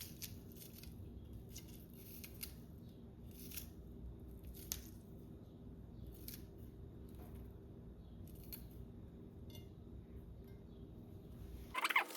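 Scissors cut through folded material in repeated quiet snips spread across a faint, steady background hum, with a brief louder rustle at the very end.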